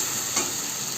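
Spice paste with cumin powder sizzling in a pan, a steady hiss of frying with a brief stirring scrape partway through, close and alone.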